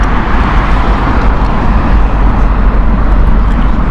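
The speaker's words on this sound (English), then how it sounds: "The Lyon flight is operating using Airbus A320neo from British Airways" A British Airways Airbus A320neo airliner at Heathrow Airport, a loud, steady engine roar with broadband rumble holding constant throughout, no voices.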